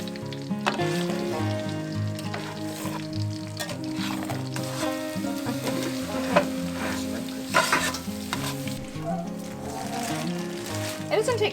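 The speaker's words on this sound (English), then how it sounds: "nothing like fried eggs and bacon grease" Eggs and bacon fry in bacon grease in an off-grid log cabin kitchen, giving a steady, close crackling sizzle that runs throughout, with scattered pops and clinks over a layer of other background sound.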